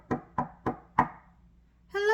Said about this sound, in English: Soon, Little Red Riding Hood knocked on the cottage door.